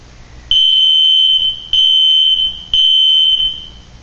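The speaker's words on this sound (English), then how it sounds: "the fire alarm's going off and you all need to evacuate your houses now" A fire alarm sounds in three loud, steady electronic beeps of about a second each, separated by short gaps, with no talking.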